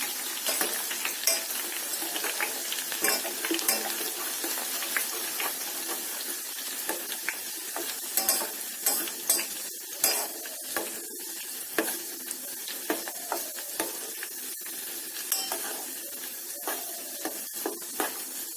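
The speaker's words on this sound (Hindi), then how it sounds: "आप देख सकते हैं जवा कुसुम फ्राई होने लगे हैं।" Hibiscus flowers fry in oil, a dense continuous sizzle with scattered crackles and occasional light clinks of a utensil against the pan, steady and fairly quiet throughout, no voices.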